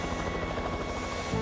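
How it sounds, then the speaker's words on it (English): A helicopter flies in an animated children's film set in a blizzard, its rotor and engine giving a loud, steady, continuous drone that fills the whole moment without a break. "Yes, the helicopter's here, Helen."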